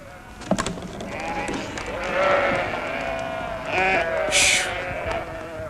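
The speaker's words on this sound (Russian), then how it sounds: "Выпускайте овец!" Several sheep bleat nearby as they are let out, overlapping calls rising and falling, with a person's voice and shouting mixed in.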